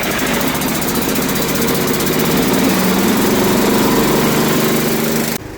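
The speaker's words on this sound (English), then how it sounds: "Compressor is running." Compressor engine on a Detroit Diesel setup running steadily, a loud close droning hum with constant buzzing tone that holds evenly before cutting off abruptly near the end.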